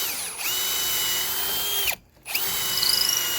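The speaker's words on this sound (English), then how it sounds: "Okay, so I drilled through." A power drill bores through a railing post held in a clamped drill guide for a stainless cable deck railing, whining steadily and loud, dropping out briefly as the bit breaks through, then spinning freely again.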